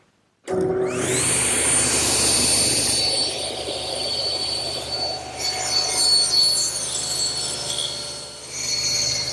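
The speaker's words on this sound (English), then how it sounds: "to do that, I use my table saw and my miter gauge" Table saw fitted with a miter gauge cutting the mitered corners of wooden chest legs, a loud steady whining blade roar that starts abruptly and holds through the whole cut, with a high squealing tone as the blade bites the wood.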